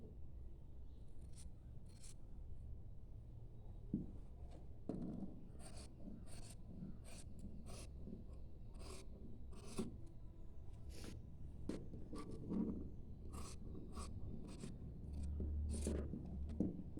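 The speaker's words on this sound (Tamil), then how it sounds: "இப்போ இந்த ஸ்லீவை நம்ம வந்து கட் பண்ணிக்கலாம்." Fabric snips of scissors cutting a blouse sleeve, a steady run of short crisp clicks and rasps at close range, evenly spaced over quiet background.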